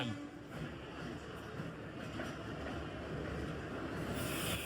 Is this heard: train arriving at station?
yes